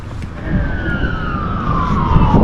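A police car siren wails at a distance over road noise and traffic, its long tone sliding slowly downward as it passes in Forster, New South Wales.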